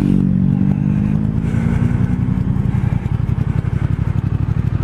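A Triumph 1200 Speed Twin rumbles through a bend on a Vosges mountain road, a loud close engine drone with a steady pulsing beat and wind noise, the note settling lower as it rolls through the corner.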